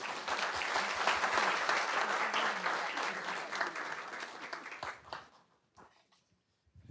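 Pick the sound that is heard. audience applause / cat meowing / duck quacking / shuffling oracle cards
audience applause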